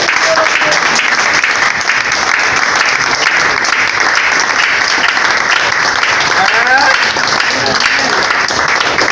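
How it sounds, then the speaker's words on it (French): A crowd keeps clapping loudly and continuously, a thick unbroken wall of applause with faint vocal traces surfacing now and then. "Applaudissez."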